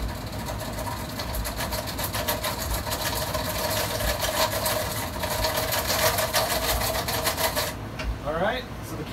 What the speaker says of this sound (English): I'm going to seal the seam in the top.